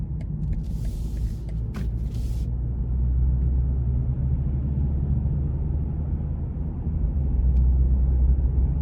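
A BMW 840i Gran Coupe (2020 840xi M Sport) driven on the road in Eco Pro mode gives a steady low engine and road rumble, smooth and constant, with brief higher noises early on and no talking.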